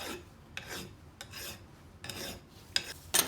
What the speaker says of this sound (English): I'm gonna go ahead and hit this with a file just a little bit, just to make sure there's no burrs here